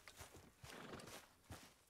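The horse Oro in the video game Red Dead Redemption 2 moves with soft clip-clop hoof steps and a snort or whinny, close and fairly quiet.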